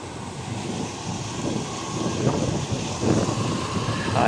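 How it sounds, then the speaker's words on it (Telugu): Steady broadband rushing of river water in a swollen stream with a gusty, wind-buffeted texture, continuous and fairly close throughout. "నీళ్ళు ప్రవాహం ఎక్కువైంది"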